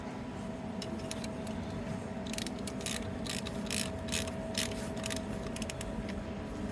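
Ratchet and socket working on a snapped injector stud of a Land Rover Defender 200Tdi engine, giving a run of close, sharp clicking bursts that grow denser midway, with steady workshop noise beneath and no talk.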